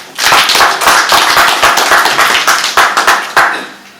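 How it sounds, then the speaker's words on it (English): Audience at a broadcast talk event clapping loudly and steadily for a guest, dense continuous hand claps close to the microphone that taper off at the end, with no talk over them. "Can we clap for her?"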